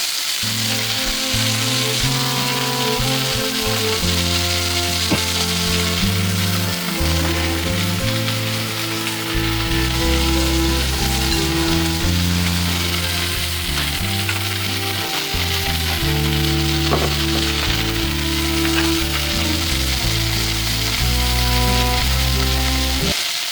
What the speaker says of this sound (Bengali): মাথার মধ্যে যে পানিটা আছে সেটাকে বের করে এটাকে ভেজে নিতে হবে